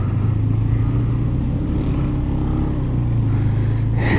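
Vehicles rumble past on a mountain road in northern Pakistan, a steady low engine drone lasting throughout with a brighter swell near the end as one draws close.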